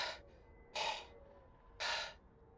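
Heavy breaths from a man lying on a forest floor after a fall, two strong breathy gasps about a second apart with a softer one at the start, close and alone.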